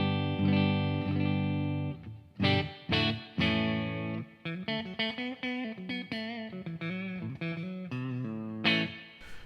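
Clean electric guitar played through a miked Blackstar amp with spring reverb, ringing chords and single notes in a steady phrase, close and moderately loud with no talking.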